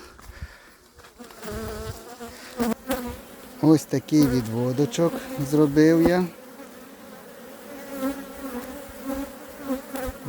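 Honeybees buzz steadily around a nucleus hive split at a hillside apiary. The close, continuous drone swells and dips while someone talks over it.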